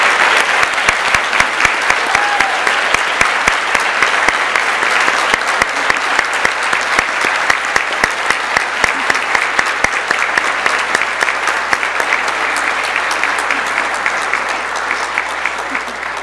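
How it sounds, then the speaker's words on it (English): Sustained, dense applause from a large audience at a Borderland Women in Tech awards event honoring change makers, loud and steady throughout with no speech over it. "please give us a big round of applause to these awesome change makers"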